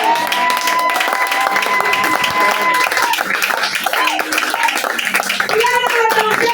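A church congregation claps and applauds together, with music and voices running through the steady, dense clapping.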